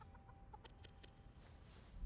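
Chickens in the video game Beast of Reincarnation give a few short, faint clucks over a low background hum.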